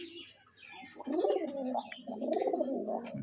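Rajshahi Giribaj pigeons coo close by in repeated throaty, rolling calls, with a quiet pause near the start before two longer bursts of cooing.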